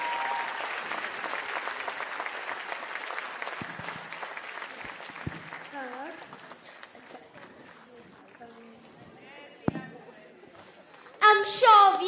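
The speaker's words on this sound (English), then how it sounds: "Keep on clapping and encourage them," An audience at a school performance claps for young children, steady applause that gradually thins and fades while chatter and children's voices surface, ending in a burst of louder voices.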